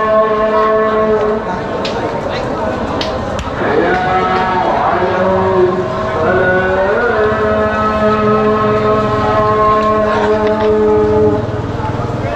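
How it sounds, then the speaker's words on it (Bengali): At Kazir Bazar, a large cattle market in Sylhet, cattle moo loudly in long, drawn-out calls that overlap one another against busy crowd murmur. "আপনারা দেখতে পাচ্ছেন সারি সারি গরু"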